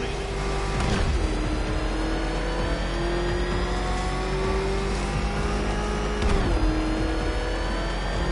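A car engine revs hard and steady in a Batman video game, a sustained loud drone whose pitch shifts at a couple of gear changes, heard close with no talking.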